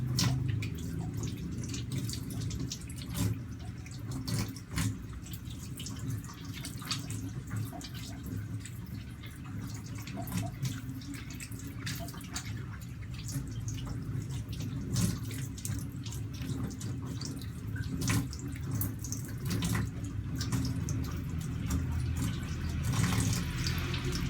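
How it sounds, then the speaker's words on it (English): Tap water runs steadily into a sink while hands are rinsed during a medical handwashing routine, a continuous close splashing flow with occasional drips and no talking. "the water should flow from the least contaminated area to the most contaminated"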